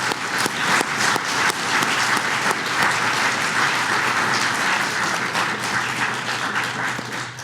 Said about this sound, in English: I would like to give applause to Ingvar Birgir.